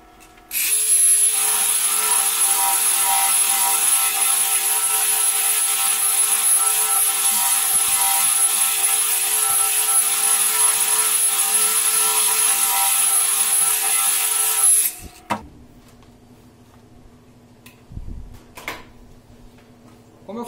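An electric sander works a rustic solid-wood table leg with 120-grit paper, a loud steady high whine and abrasive hiss running for about fifteen seconds before cutting off, leaving faint low mechanical rumble and brief knocks.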